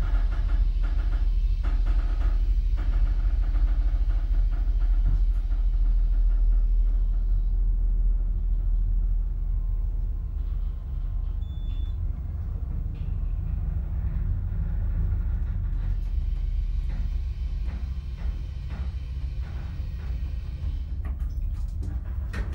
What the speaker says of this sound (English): You'll listen to the motor going up.